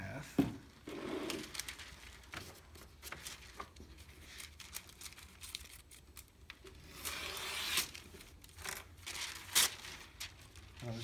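Scissors cutting a sheet of wax paper in half, a quiet series of crisp snips and papery rustles with a few louder sharp cuts, up close in an otherwise still room.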